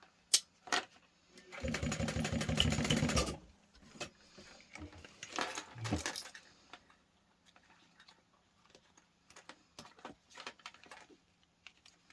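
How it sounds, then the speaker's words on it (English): A sewing machine stitches two seam lines on an anti-theft backpack in short bursts, a close, quiet mechanical whirr lasting a couple of seconds and then a briefer run, amid scattered soft clicks and handling noises. "And then I'm going to sew this together like this."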